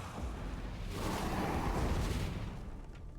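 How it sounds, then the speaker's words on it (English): In the video game Divinity Original Sin 2, oil and poison ignite in an explosion that blasts a door apart, heard as a dense roaring burst that swells and then fades over a few seconds, with no talk. "And the explosion takes out the door, which is nice."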